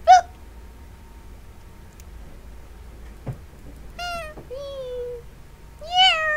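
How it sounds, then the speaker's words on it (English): A cat meows several times: one sharp cry at the start, then a cluster of drawn-out meows near the end, each clear and close over a quiet, faintly humming background. "No meowing on this channel."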